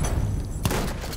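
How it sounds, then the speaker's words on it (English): A shotgun fires in a Battlefield 1 match: one loud, sharp blast in the middle, followed by a rumbling tail over busy battle noise. "I am behind him, shooting him with a shotgun, and it's not doing any damage."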